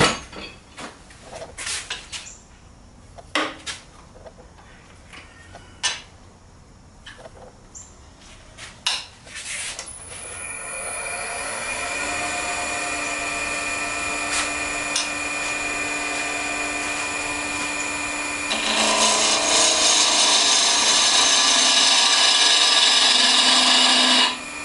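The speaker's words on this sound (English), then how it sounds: "I'm going to switch to a spindle gouge." Wood turning a dreidel spinning top on a lathe with a spindle gouge: sparse taps and short whirs at first, then a steady, loud motor whine with scraping cuts that grows louder toward the end.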